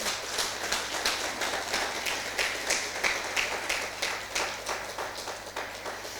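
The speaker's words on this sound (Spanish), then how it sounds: "Denle un fuerte aplauso nuevamente al Señor." A church congregation applauding together in steady, rhythmic clapping that carries on throughout, fairly even in loudness with no voices standing out.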